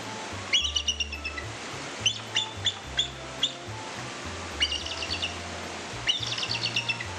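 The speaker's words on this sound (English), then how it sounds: "in reality, bald eagle sounds like this" A bald eagle calling in a series of high, thin chirping and piping bursts, several short rapid trills spaced apart, fairly close and alone.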